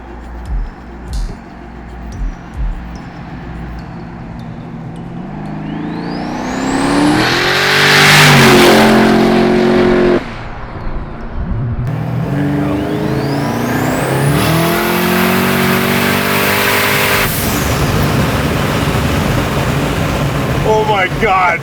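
A custom-built 1600 hp twin-turbo Buick Grand National from Roadster Shop accelerates hard twice, its engine climbing loudly through the gears with a shift in between, while people talk over the roar.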